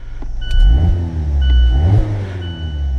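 A Mazda MX-5 Miata ND2 Club with a six-speed manual cranks briefly and fires up close by, its engine catching with a burst of revs and then settling into a rising and falling idle.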